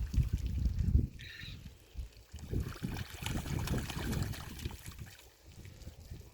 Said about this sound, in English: they knock the hose out and then they flap all the water out, as he is doing right now